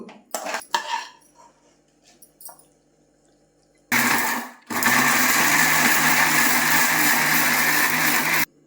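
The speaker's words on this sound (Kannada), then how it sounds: "ಹಾಗೆ ನೋಡಿ ರುಬ್ಬಿಬಿಟ್ಟು ನಮ್ಮ ಚಟ್ನಿ ರೆಡಿಯಾಗಿದೆ" A mixer grinder whirs loudly in two bursts while grinding cooked sandubalLi chutney with water, a short spin followed by a longer steady roar, after some clinking of the jar and lid.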